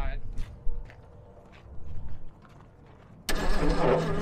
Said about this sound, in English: Ignition on. Alright, let's crank her over.